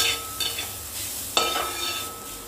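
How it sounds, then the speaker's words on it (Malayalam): Grated coconut being stirred in a pan with mustard seeds for a Kerala-style lunch, a steady close sizzle with a few scraping stirs of a spoon against the pan, no talking. "തേങ്ങ ഇട്ടു നിളക്കി പച്ചമണം ഒന്ന് മാറി കഴിയുമ്പോൾ"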